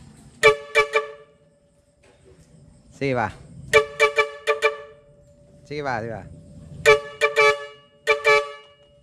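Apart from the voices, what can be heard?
air horn on a van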